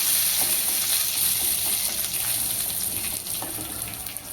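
Cumin, curry leaves and finely chopped coriander are stirred in a hot pan, giving a steady close sizzle with light scraping of the spoon that slowly fades toward the end.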